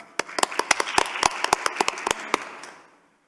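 Audience applause at a peace-movement forum session, a burst of sharp separate claps from a small group, starting suddenly and thinning out before fading to silence after about two and a half seconds.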